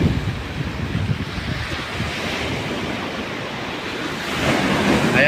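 Large ocean waves surge and crash along a beach shore near a resort, a continuous loud roar of surf mixed with wind noise buffeting the microphone, swelling louder toward the end.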